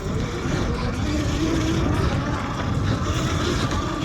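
A Yozma IN 10 dirt bike, a budget model rated at 40 mph, rides over jumps. It makes a steady, loud rush of motor and wind noise with no clear breaks and no talking.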